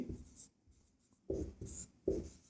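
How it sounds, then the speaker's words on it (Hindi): A pen scratches across paper during a Class 10 maths probability lesson, in a few short, close, faint strokes separated by quiet gaps. "तो यहाँ पर लिखेंगे"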